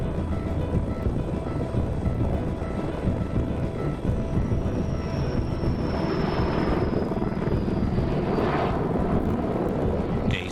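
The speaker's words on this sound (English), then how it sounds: "All 5 heavy-lift Sky Crane helicopters were brought in." Heavy-lift Sky Crane helicopters working a wildfire, a steady broadband rotor and engine roar filling the scene throughout, with a faint high whine gliding down midway.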